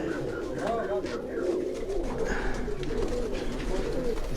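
Sialkot-breed pigeons coo in steady, overlapping low murmurs close by, with a faint voice and some rustling in the background throughout.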